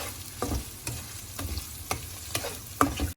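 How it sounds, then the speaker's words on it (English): Food sizzles steadily in a hot pan while cooking muddha pappu, an Indian lentil dish, as a utensil scrapes and stirs in regular strokes, close up with no talking. "Make sure everything gets the sizzle."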